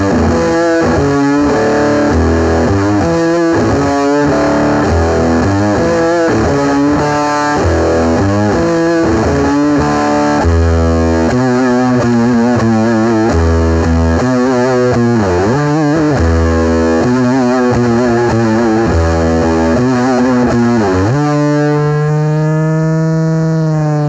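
Raunchy, heavily distorted electric guitar from a band's guitarist, playing a loud, continuous run of riffs and bent notes for over twenty seconds before ringing out on a sustained chord.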